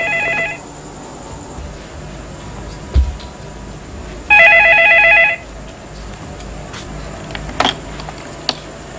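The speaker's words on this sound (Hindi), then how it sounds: "मेरे ख्याल में भाई टेलीफोन बज रहा है।" A telephone rings in two short electronic bursts separated by quiet, with a few faint clicks and taps in between.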